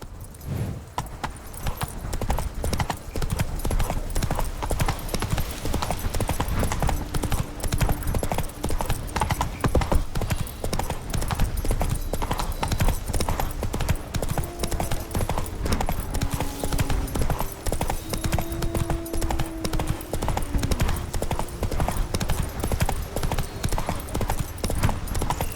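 Roach the horse's hooves clip-clopping steadily in The Witcher 3, a continuous rhythmic trot under game ambience, with a faint tonal voice or whinny partway through.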